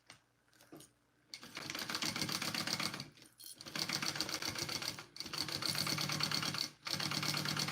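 A sewing machine stitches the top panel onto a handmade bag, running in loud, fast bursts of several seconds each with short pauses between them.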